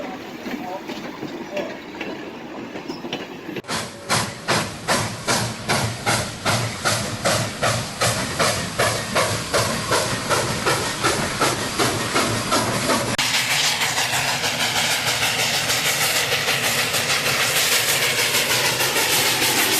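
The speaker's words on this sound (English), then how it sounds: "3715 is about to depart out of Elk Valley." Steam locomotive 3715 pulling a holiday shuttle train out of Elk Valley gives loud, rhythmic chuffing exhaust beats that quicken, then a sustained roaring hiss of steam, with faint talk early on.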